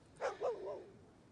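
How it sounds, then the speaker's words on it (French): A single dog in a horror film gives two short barks followed by a drawn-out whine, heard fairly close but not loud, with no one speaking over it. "Tenez, tuez ce chien."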